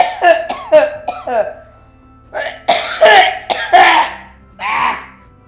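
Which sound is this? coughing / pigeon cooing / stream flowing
coughing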